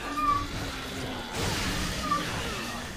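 A pet cat indoors gives a couple of faint, short meows over steady room noise and game sounds.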